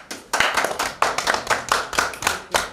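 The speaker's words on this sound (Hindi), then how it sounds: "तालियां बजा दो।" A small group claps in steady rhythmic bursts at a Diwali gathering while someone receives a gift, the hand claps close and fairly loud, with no talk over them.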